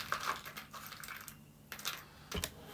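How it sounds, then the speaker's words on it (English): Cards are shuffled during a tabletop air-combat board game, heard as soft papery riffling and flicking bursts close up, fairly quiet and with no talk. "So, give it a bit of a shuffle."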